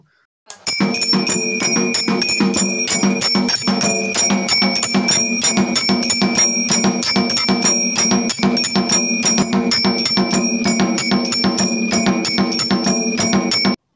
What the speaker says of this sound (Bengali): তোমরা নিজেরাই দেখতে পেলে এই আরতি ঘন্টাটা কেমন এবং এর সাউন্ডটা কত জোর